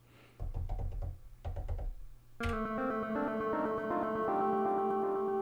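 A few low knocking drum hits sound from an Elektron Analog Rytm drum machine, then a sustained electronic tone of several stacked notes rings on steadily, with no talking.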